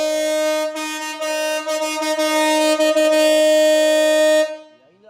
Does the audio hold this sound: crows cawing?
no